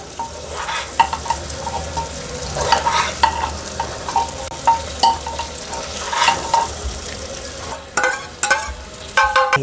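A spiced Maharashtrian masale bhat mixture with chillies and coriander powder is stirred in a pan, a continuous sizzle broken by scraping and clattering strokes, loud and close with no talking.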